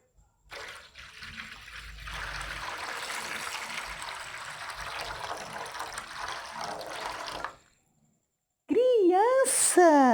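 Water poured into a basin or tray, a steady broadband splash running for several seconds, fairly close, then stopping into silence before a bright, wavering synthetic tone begins.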